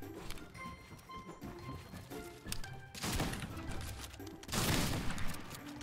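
Bursts of video game gunfire during a competitive shootout round, with two heavier volleys standing out over a dense, noisy mix of quieter shots and game sounds.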